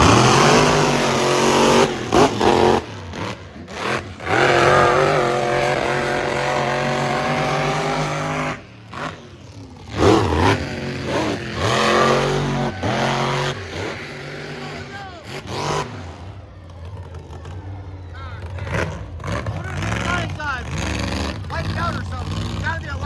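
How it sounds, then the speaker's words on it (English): A truck's engine revs and roars repeatedly as it spins around in deep mud at the Michigan Mud Jam, loud throttle bursts rising and dropping, with spectators talking over the engine noise. "That's the second truck that you've seen spin around."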